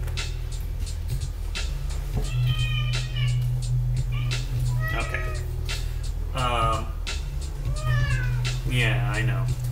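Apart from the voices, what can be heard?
cat meowing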